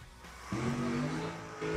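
A drag racing car rolls into the burnout box for a $100K quarterfinal at Kil-Kare, its engine rising into a distant, muffled rev with a steady tone before a second throttle blip at the end.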